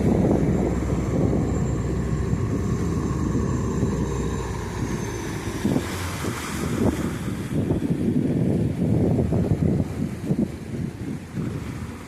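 A fishing boat out at sea off Cheriazheekal beach churns along amid wind buffeting the microphone and the wash of waves, a steady low rumble that turns choppier and more agitated midway.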